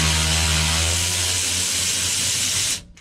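A power tool spins out a 15 mm bolt during a dual-disk clutch install on an NV5600 transmission, a loud continuous whir close by that runs steadily for nearly three seconds before cutting off abruptly.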